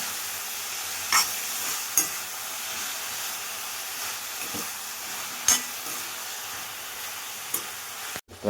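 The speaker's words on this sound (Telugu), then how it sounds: "తగినంత ఉప్పు వేసిన తర్వాత కలిపేసుకుందాం." Long brinjal curry sizzles softly in a pan after salt is added, with a few distinct scraping stirs of the spoon spaced several seconds apart over the steady frying hiss.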